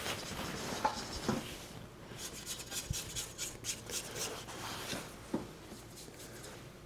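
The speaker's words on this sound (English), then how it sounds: "I'm gonna go ahead and scrape down a little bit." A spatula scrapes banana bread batter down the sides of a mixing bowl, giving soft, irregular rubbing and scraping strokes close by with no talking.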